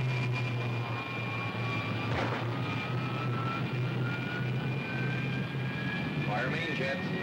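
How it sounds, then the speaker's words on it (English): A 1950s-style rocket ship fires its main jets, a steady loud roaring rumble with a faint whining tone sliding upward, continuous throughout without pause. "Fire main jets"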